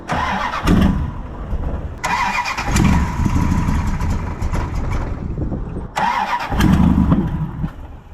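A carbureted Mopar Magnum car engine cranked and fired up, loud and close, with repeated start attempts that catch and settle into a rough idle.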